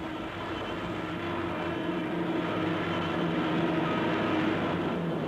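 A wartime aircraft comes down in flames, heard as a continuous loud engine roar and rumble that holds steady throughout, with no talk.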